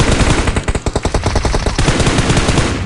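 Loud, rapid automatic gunfire from a first-person shooter, a dense burst of closely spaced shots lasting a few seconds with no pause.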